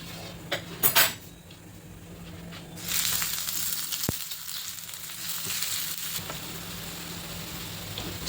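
Slices of suran, elephant foot yam, sizzle as they fry in a pan, a steady hiss punctuated by metallic clinks of a utensil against the pan.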